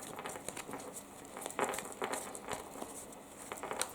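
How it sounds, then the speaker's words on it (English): Tarot cards being shuffled by hand, a quiet run of close papery riffles and soft flicking patters in irregular bursts. "I'm busy giving these cards a really good shuffle."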